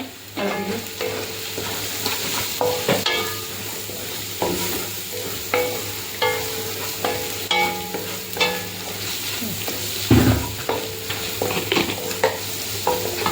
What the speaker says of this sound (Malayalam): ബ്രൗൺ കളർ ആയി വരണം അതുവരെ നമുക്ക് ഇളക്കാം